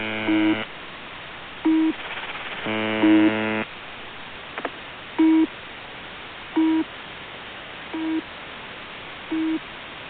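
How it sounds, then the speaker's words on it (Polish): Shortwave radio hiss carries a repeating short double marker tone from a station broadcast from at least two sites, spaced about every second and a half, with brief bursts of buzzy data-like signal early on. "Podwójny sygnał markera wynika z faktu, że Bazel jako poważna stacja jest nadawana przynajmniej dwóch ośrodków"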